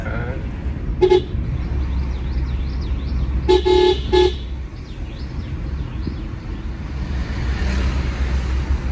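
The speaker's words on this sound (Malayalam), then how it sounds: "ആദ്യമൊക്കെ എല്ലാരും ഇങ്ങനെ ഹോൺ അടിച്ച് കളിക്കണ" Several car horn toots sound in short bursts over steady road traffic rumble from inside a car travelling to a temple, with a few faint honks far off.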